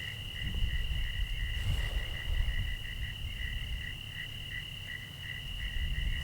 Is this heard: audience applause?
no